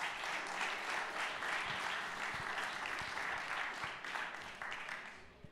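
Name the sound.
applause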